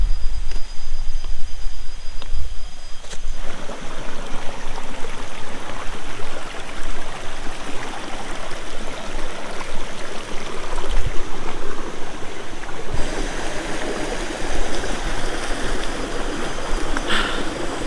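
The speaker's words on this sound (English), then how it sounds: "We were just like 100 meters in and there's already a river crossing." Stream water rushing over rocks at a river crossing on a mountain hiking trail in Malaysia, a steady broadband wash that grows louder and brighter partway through, with occasional splashes and no voices.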